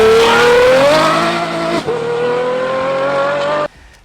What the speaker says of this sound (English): There's nothing like having a naturally aspirated V12 sound, especially when the top is down for you to hear it.